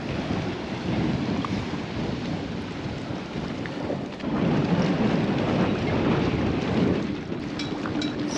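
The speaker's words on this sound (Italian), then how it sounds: "Altra giornata di forte maestrale in quel di Teulada." A strong mistral wind roars and buffets continuously in the harbour at Teulada, with rushing waves blended into the loud, unbroken wind noise and no talk.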